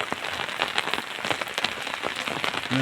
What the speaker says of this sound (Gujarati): તો આવી રીતનો વરસાદ છે